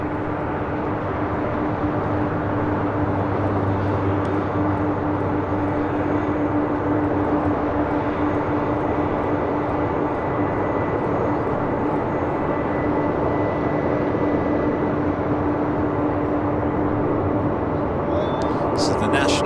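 A 28-year-old Boeing 747 freighter, delivered to Singapore Airlines cargo in 1995, arrives at LAX with a steady, sustained engine roar and a constant low hum beneath it.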